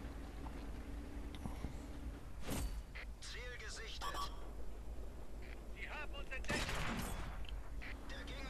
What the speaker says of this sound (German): Die Artillerie versucht mich zu treffen, wie ich merke.